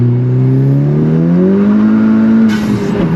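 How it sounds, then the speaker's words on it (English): A Honda Civic Type R engine revs steadily upward in second gear, a loud droning whine rising in pitch, with a rougher burst near the end as the tyres slip. "Let me try second gear, just straight up second gear pull and see if it spins out."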